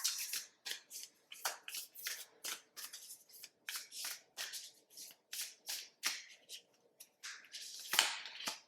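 A deck of affirmation cards is shuffled and handled, producing rapid papery riffles and flicks in quick bursts with brief pauses between them, close and fairly quiet, with no one speaking.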